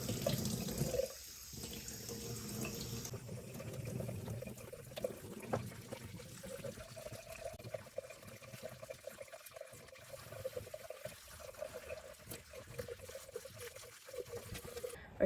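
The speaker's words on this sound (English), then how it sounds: "Okay, so I just quickly rinsed the cranberries just in water" Cranberries rinsed under a running kitchen tap for jam-making, a steady hiss of water with small splashes and shifting flow close by, with no talking.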